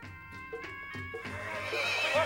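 A horse at the Sibi horse and cattle show in Pakistan gives a loud, close whinny with a rising, quavering neigh over a low rumble of crowd and movement.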